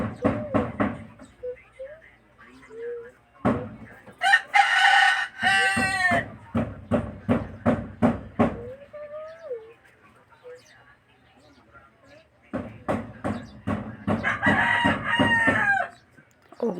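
Bangkas roosters, tethered to trees, crow a few times, rising and falling, between stretches of steady rhythmic clucking calls close by.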